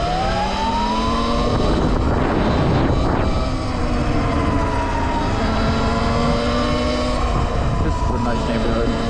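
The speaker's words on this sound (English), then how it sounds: "let's see how this bike goes in race mode. And this bike is definitely louder." An Altis Sigma electric motorbike ridden in race mode, a loud, steady, rising motor whine with layered tonal pitches and heavy rushing wind noise that stays constant throughout.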